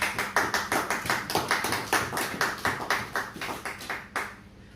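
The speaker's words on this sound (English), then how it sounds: "Hold on, can I clap for that?" People clapping at a residents' meeting in Eastern St Thomas, a burst of roughly a dozen sharp, fairly regular claps that slows and fades out near the end, with no voices over it.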